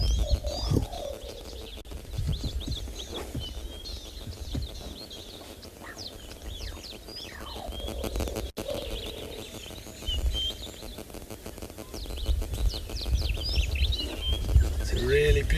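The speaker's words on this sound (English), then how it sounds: "just to listen to all the different birds around" Various birds chirp and call in short bursts at sunrise against a quiet outdoor background, with a low coo and occasional rustling, some near and others farther off.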